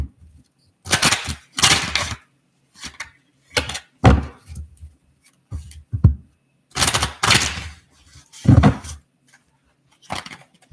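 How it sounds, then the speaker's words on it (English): A deck of tarot cards is shuffled up close in a series of short, crisp riffling bursts separated by brief pauses, with no talking. "I'm going to give it a good shuffling."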